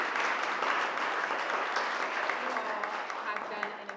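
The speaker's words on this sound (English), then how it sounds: "Founders, another round of applause." An audience at a Birmingham tech startup showcase applauds the founders with dense, steady clapping that fades slightly toward the end, with a voice speaking faintly beneath.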